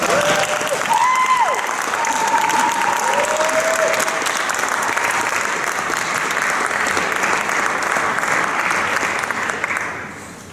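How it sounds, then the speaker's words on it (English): An audience applauds a jazz ensemble with eight saxophones as the players walk out for a concert, steady dense clapping that holds for about ten seconds before tapering off, with faint whistles early on. "They want you to applaud when they come out."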